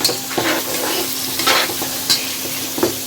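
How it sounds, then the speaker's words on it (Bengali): Fish sizzles steadily in a hot pan for home cooking, with a constant frying hiss broken by a few sharp spatters and stirring clinks at close range. "মাছটা ভাজতেছি"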